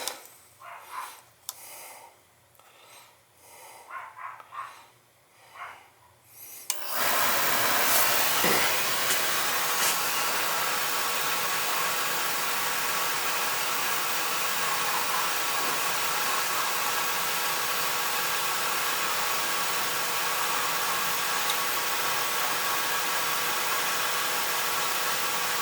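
Outdoor oil burner on a Roth oil tank setup, its pump priming after air was bled from the line, runs as a loud, steady whirring hum that starts abruptly and continues unbroken to the end.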